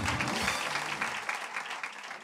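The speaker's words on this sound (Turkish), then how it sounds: "İlk önce bir Saadet Öğretmen'i alkışlamanızı rica ediyorum" A studio audience on a Turkish late-night talk show bursts into brief, full applause, a dense wash of clapping that holds steady and then eases slightly.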